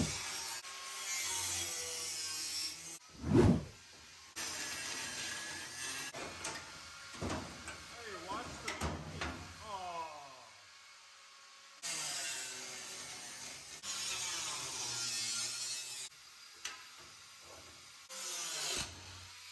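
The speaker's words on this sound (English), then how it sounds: "grind off the flange all the way around to get these seats as low as we can" An angle grinder cuts away the metal flange around car bucket seats in a Dodge build, harsh grinding bursts in several passes separated by pauses and scattered clanks.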